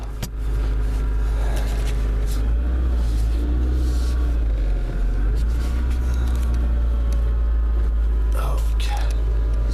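An old, smoking Mazda Protege idles with a deep, steady engine drone and low rumble as it is driven around to the back yard, with faint voices in the background.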